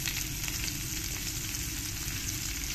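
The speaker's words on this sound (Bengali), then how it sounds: "পেঁয়াজটাকে একটু লাল লাল করে আমি ভেজে নেব" Chopped onion sizzles and fries steadily in a hot pan, a dense continuous crackle at close range with no break and no talking.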